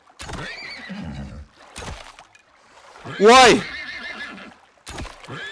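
A horse in the survival game ICARUS lets out a sharp, rising whinny in the middle, set between bursts of people talking and a few hoof-like knocks.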